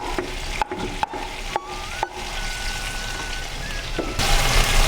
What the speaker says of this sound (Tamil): தக்காளி நல்லா குழைவாக வதங்கட்டும்.